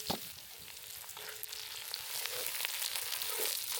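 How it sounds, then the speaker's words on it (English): Onions for chili sizzle and fry in a hot pan, a dense steady crackle that swells slightly as they settle in, with no talking. "we're gonna drop these onions in and get them cooked nicely"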